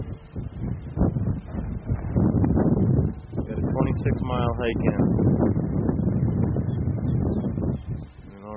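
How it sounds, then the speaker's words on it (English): Strong wind on a mountain at about 9,000 feet roars and buffets the microphone in steady low gusts, with a voice talking over it. "It's windy."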